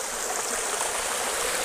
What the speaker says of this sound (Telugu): సో వాటర్ చూడండి ఎంత ఫోర్స్గా వస్తున్నాయో.